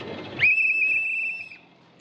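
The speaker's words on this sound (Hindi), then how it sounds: "इसने कहा मैं सीटियाँ बजा बजा के जाऊँगा।" A small handheld whistle gives one sharp, shrill blast lasting about a second. It is close and loud, with muffled background noise just before it.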